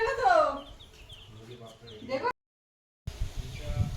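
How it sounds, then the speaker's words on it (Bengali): Chickens clucking outdoors on a rural Sundarbans homestead, several short clucks and calls near the mic mixed with a person talking, then a brief gap and rustling. "মুরগি সব বেরিয়ে"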